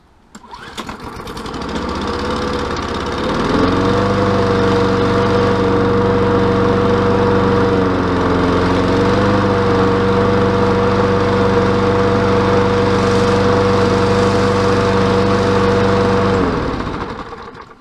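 A gasoline lawn mower with a choke and no primer bangs to life after a short pull, then runs at a loud, steady, close drone for well over ten seconds before cutting off.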